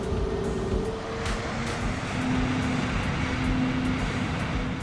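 Airbus A330 roaring under reverse thrust after touchdown in Flight Simulator 2020, a steady broad engine rumble with a thin tonal whine, continuous and fairly loud with no talking.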